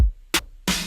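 A short trap beat drum pattern: a deep kick at the start, then a crisp snare-like hit and a sustained bright cymbal or hi-hat wash, loud and close.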